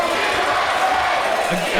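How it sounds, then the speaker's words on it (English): A packed professional wrestling crowd at a tag-team match roars continuously and loudly, a dense, sustained wall of cheering and shouting with no pause. "The crowd reaction utterly deafening here."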